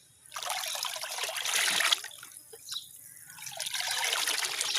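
Homemade kitchen-made liquid fertilizer trickles and splashes steadily onto garden plants, a close, continuous pouring stream that swells and eases over several seconds.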